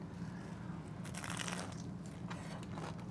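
A crisp crunchy bite into a pan-fried gluten-free potsticker, a short burst of crackling crunch and chewing heard up close, with no talking.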